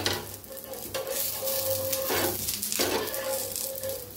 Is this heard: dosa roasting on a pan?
yes